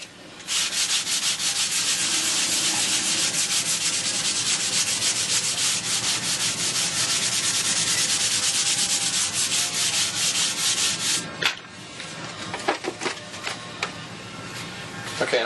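Wood being sanded in a shop produces a long, continuous, close-up scratching rasp for about ten seconds, followed by a few scattered scrapes and knocks.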